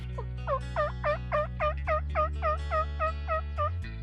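A wild turkey gobbles in the Carolinas on the opening day of turkey season, delivering a long rapid series of about a dozen rattling calls at moderate distance over a steady low hum.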